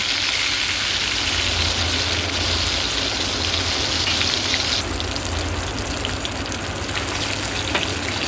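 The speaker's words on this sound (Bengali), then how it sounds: "মাছগুলো তোলা হয়ে গেলে আমি আরও দুটো মাছ ভেজে নেবো" Bhola fish frying in oil in a small pan, giving a steady, dense sizzle that carries on without a break, close up and fairly loud, with no talking.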